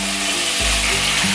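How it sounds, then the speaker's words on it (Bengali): Diced potato and chicken pieces frying together in a pan for a chicken-with-cabbage curry, a loud, dense sizzle with low rumbling stir sounds underneath, continuous and close. "দিয়ে আলু আর মাংস আরও ভালো করে ভেজে নেব।"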